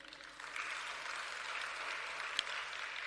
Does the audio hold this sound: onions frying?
no